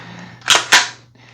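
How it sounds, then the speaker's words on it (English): A Geissele SSA-E trigger on an AR-style 300 Blackout rifle breaks during dry fire. Two sharp metallic clicks land close together, crisp and near, in otherwise quiet surroundings. "I am running a Geisley SSAE trigger in here, and the take-up on it is non-existent. It just breaks so fast."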